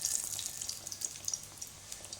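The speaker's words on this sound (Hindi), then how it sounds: "थोड़ा पानी गिर रहा है कढ़ाई में" Water drips into a wok of puris frying in hot oil, giving a steady crackling, sizzling hiss with small irregular pops and spatters, close up, with no talking.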